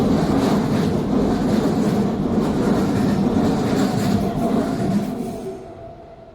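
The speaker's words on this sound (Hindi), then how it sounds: "बनारस जाने वाली ट्रेन प्लेटफॉर्म नंबर 3 पर आ गई है।" A train pulls into a railway platform bound for Banaras, its loud rumbling rolling and clattering wagons filling the air before fading away near the end.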